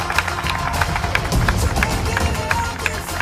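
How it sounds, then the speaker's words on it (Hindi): An audience at a 2023 Yoga Day fitness event claps loudly and continuously, a dense, close wash of many hands applauding for a few seconds. "इसी बात पर एक जोरदार ताली बजाने का बनता है"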